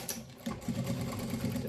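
Sewing machine stitching fabric for an organizer, a short burst of rapid mechanical needle chatter with a brief pause and restart consistent with backstitching, close and alone.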